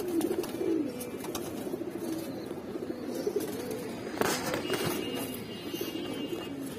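Flock of giribaz pigeons, including silver bagha birds, cooing steadily in a low, throaty murmur, with overlapping calls close by and a busy, continuous rhythm throughout.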